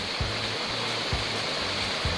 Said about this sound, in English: to finish off here right next to this beautiful waterfall